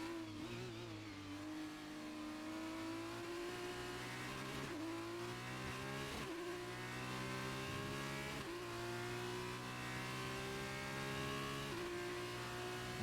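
A Formula 2 race car at Silverstone, heard onboard as its engine screams at high revs, pitch dropping sharply at each gear change or braking point and climbing again, continuous and loud throughout.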